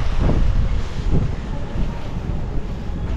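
Steady, rushing wind at Sampaloc Lake on a cloudy morning buffets the microphone throughout, a loud low roar with gusty swells and no voices.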